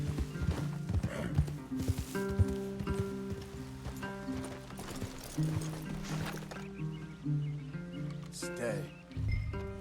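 Horses' hooves clip-clop in Red Dead Redemption, a steady clatter of mid-distance footfalls running under game music and dialogue, with a brief whinny near the end.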